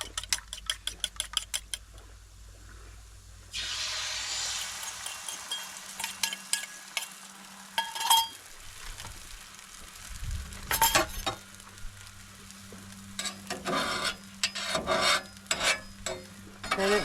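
Eggs cooking on a Blackstone griddle, a soft continuous sizzle broken by scraping and tapping of a spatula on the flat metal surface, with intermittent clicks at the start.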